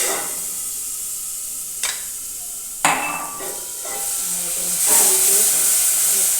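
Asafoetida, salt, curry leaves and chutney drop into hot oil already crackling with mustard and cumin seeds, giving a steady hiss with sharper sizzling bursts as each goes in, close and fairly loud, no voices.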